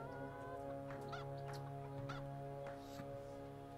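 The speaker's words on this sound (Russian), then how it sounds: "Прикольная насмешечка у нас на петуха" Rooster taunt in Dota 2 during a tournament match, a few short crowing and clucking fowl calls, faint, laid over steady droning game ambience with no voices.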